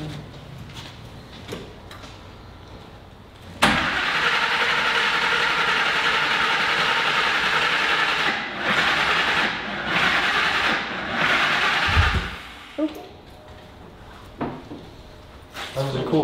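A wrecker truck engine cranks in one long, steady, grinding stretch of about eight seconds, then gives a sharp, low backfire thump out the exhaust. People talk quietly before and after.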